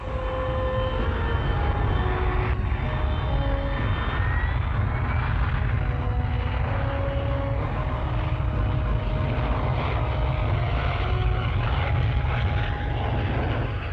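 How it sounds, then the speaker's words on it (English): A loud, steady jet engine roar from a hovering Hawker Siddeley Kestrel (Harrier) VTOL jet, nozzles turned downwards, holds at a constant level with a deep rumble and faint whining tones drifting slightly in pitch. "With nozzles turned downwards, the aircraft hovers on its own jet thrust."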